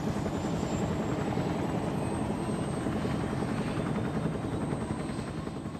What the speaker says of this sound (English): the massive flight of choppers was lifting off the ground and maneuvering into tight formations